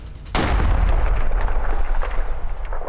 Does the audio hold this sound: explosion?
yes